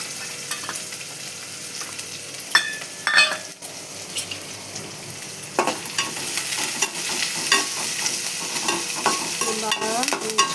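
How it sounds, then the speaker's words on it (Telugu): Onions and green chilies sizzle and fry in a pan until golden, with steady crackling and frequent stirring scrapes of a utensil against the pan, close up and with no talking. "ఇప్పుడు ఇది కొంచెం గోల్డ్ కలర్ వచ్చేదానికి వేయించుకోవాలి"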